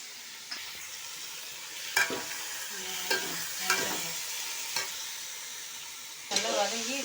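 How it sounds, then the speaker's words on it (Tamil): Chicken sizzles steadily in a hot pan while being sautéed for pepper chicken, close up, with a spoon scraping and stirring at irregular intervals. "சிக்கனை இப்போ இதில் போட்டுப்போம்"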